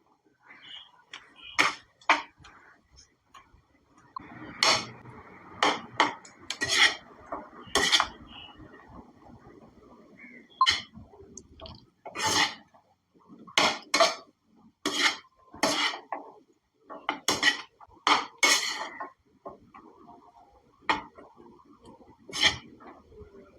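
A metal spoon stirs and scrapes chicken rice in a pot, giving a long irregular run of clinks and scrapes, some sharp and close, with brief pauses between strokes.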